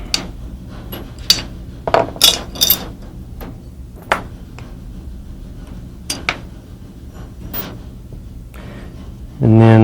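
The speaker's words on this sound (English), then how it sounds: "Then all the trigger mechanisms are removed. Taking those two pins out." Small metal clicks and taps from punching trigger mechanism pins out of a 1911 pistol during disassembly, scattered sharp transients across a quiet bench background, ending with a louder thump.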